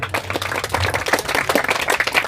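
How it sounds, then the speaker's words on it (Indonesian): Brisk, uneven clapping from a modest audience at a halal bihalal and picnic gathering with orphans, close by and moderately loud, with individual claps distinct rather than merged into a roar. "Masya Allah, tepuk tangan ya"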